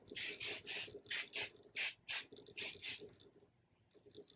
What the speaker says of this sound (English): I'm gonna spray like a little bit of hairspray.